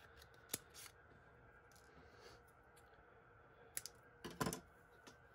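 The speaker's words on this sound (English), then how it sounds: "I have these fabric scissors that cut zigzag, so I was gonna see if I could get it to cut." Fabric zigzag scissors cut through vinyl up close, giving a few sharp, crisp snips with quiet gaps between them in an otherwise still room.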